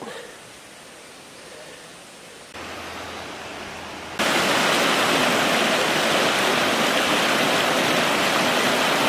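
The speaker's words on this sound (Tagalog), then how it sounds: "Yan, first waterfalls." Olon Halas falls in Barangay Caghalo, Carigara, Leyte, roars as a steady broadband rush of water. It starts softer and jumps to a loud, close, continuous wash partway through.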